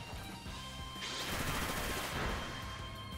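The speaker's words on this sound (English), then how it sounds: "We will end this with a nice little Bullet Seed." A Bullet Seed attack in the video game Pokemon Scarlet and Violet lets off a quick, rattling volley of rapid popping hits. The burst swells briefly over a soft, constant game backdrop.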